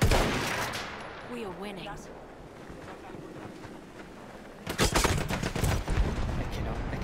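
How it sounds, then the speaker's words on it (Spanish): A machine gun in Battlefield 1 rattles out rapid, loud bursts over the final two seconds on the snowy Lupkow Pass map, preceded by wind noise and a brief voice. "Смотри, там пулемет."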